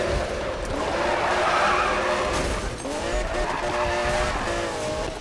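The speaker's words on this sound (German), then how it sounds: "Jetzt lässt sich der Wagen wieder sehr schwierig in den Drift bewegen." A Lamborghini Murcielago drifting in Need for Speed, its tires squealing in long wavering howls over a loud engine roar, the squeal rising and bending as the slide goes on, close and prominent.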